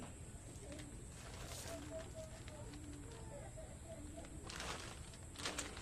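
Soft, low pigeon coos repeat in short runs over a steady hum of outdoor background noise, with a few brief rustles.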